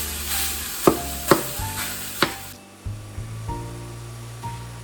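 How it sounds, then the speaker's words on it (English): A metal spatula scrapes and breaks up beef frying in a pan for Cajun rice dressing, with several distinct knocks and scrapes over a steady loud sizzle that drops off partway through. "Get a spatula, a metal one, where it breaks up the beef easier."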